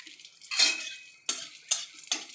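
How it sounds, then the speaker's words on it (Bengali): Dried red chillies dropped into hot mustard oil over a medium flame give four short, sharp crackling bursts close by, each fading quickly into near silence. "শুকনো লঙ্কা আর সর্ষে তেলের মধ্যে ছেড়ে দেবো।"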